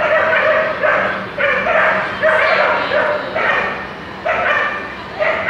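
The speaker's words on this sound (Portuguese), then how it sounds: "A cachorrada tá solta." A pack of dogs barks and yips in repeated bursts at a bus stop, loud and near, with short gaps and some whimpering between volleys.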